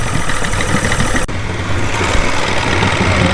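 A 1973 Johnson 65hp outboard motor runs steadily at a low idle, a continuous close, rumbling drone with a brief dip partway through before it settles back to the same even hum.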